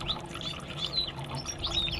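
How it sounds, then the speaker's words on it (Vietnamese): A goldfinch sings in faint, high, thin chirps and twitters, repeated in short bursts over a soft background hiss. "Goldfinch."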